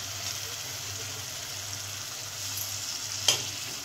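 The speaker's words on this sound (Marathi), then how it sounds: "आणि हे चांगलं आता परतून घ्यायचं तेल सुटेस्तोपर्यंत।" Chopped tomato and masala fry in hot oil for a chana curry, giving a steady bright sizzle, close and continuous, with a brief stir or clink near the end and no talking.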